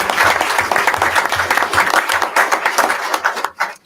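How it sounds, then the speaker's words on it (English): A loud, dense round of applause from a crowd at a school district board meeting, continuous clapping that swells and then tapers off abruptly at the end. "How about a huge round of applause for Levi Stein?"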